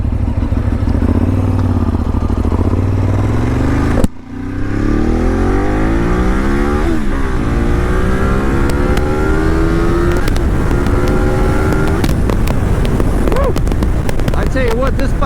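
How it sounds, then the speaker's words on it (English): A 2010 Ducati 848 motorcycle fires up after a sharp click at about four seconds, then its engine revs and pulls away on a ride, climbing through gears loud and close with wind buffeting. "let's hear that Ducati sound again. Let's turn that key on, give it a start,"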